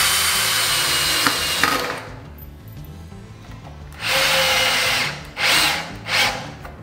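Einhell 18 V brushless cordless drill driving screws into pine wood, with a long steady whirring run, then three shorter loud bursts of driving near the mic.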